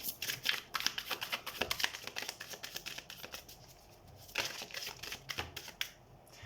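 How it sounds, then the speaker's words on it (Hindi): A deck of tarot cards shuffled in quick riffling bursts, close and fairly soft, with rapid papery flutters in several runs separated by brief pauses. "सो हम कार्ड शफल कर लेते हैं।"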